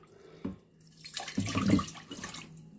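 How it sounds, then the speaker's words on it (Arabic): A cup of water is poured into a bowl while making bala7 el sham dough: a brief light knock, then a short splashing pour that swells and trails off, close by. "هنا هحط كوبايه ميه"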